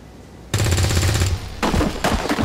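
Gunfire in the video game XCOM 2: loud automatic bursts, one sustained volley followed by two shorter bursts, close and dominant with no talk.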